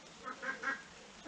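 Ducks, small game-type drakes rather than big white Pekins, quacking three or four times in quick succession, faint and a little distant over steady outdoor background noise.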